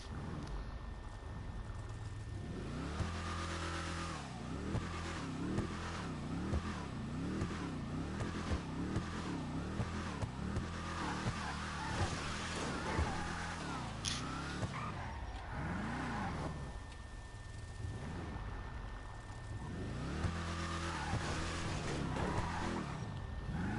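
A loud car engine with aftermarket exhaust pipes in Grand Theft Auto V revs repeatedly, rising and falling in bursts with a deep, throaty exhaust rumble throughout.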